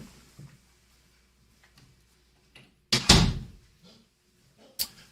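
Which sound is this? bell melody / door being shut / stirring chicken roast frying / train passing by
door being shut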